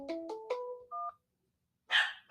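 Several quick telephone keypad tones sound in a short sequence, then a pause and a burst of line noise, as a caller navigates the menu of a live call-in show's phone line.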